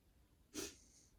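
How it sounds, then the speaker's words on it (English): A single short, faint sniffle from a person with a cold, a quick breathy intake in an otherwise quiet kitchen setting. "I'm still sniffling."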